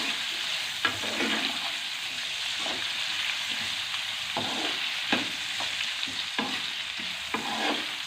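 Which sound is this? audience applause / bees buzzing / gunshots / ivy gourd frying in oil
ivy gourd frying in oil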